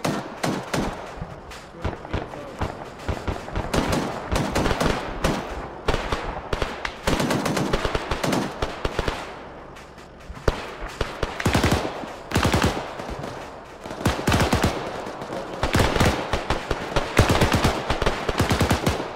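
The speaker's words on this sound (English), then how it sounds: "I'm gonna start putting out some HE rounds" High-explosive rounds fire in ArmA 3 combat, loud rapid bursts of shots in irregular clusters with short pauses between volleys.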